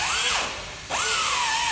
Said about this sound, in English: you have to cut away some bolts to get this light up